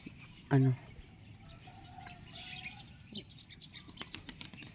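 A short burst of flapping pigeon wings and soft bird sounds outdoors, with faint chirps and rustling afterward.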